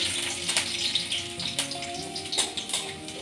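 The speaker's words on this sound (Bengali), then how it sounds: "রসুনটা হালকা হালকা ভাজা হয়ে গেছে" Garlic fries in a pan in a home kitchen, a steady hissing sizzle with a few light clinks and scrapes on top. No one speaks.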